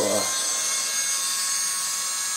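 A Dremel rotary tool whines at a steady high pitch while grinding a mask, sounding continuous, close and fairly quiet after a brief low thud at the start.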